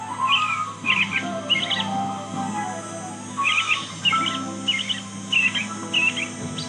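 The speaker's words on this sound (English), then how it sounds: "For the robin and blue jay. American robin." Recorded American robin song in the Nancy Drew game Ghost Dogs of Moon Lake, played back from a tape: several clear, bright chirping phrases in bursts with short gaps, over a low steady hum, with no talking.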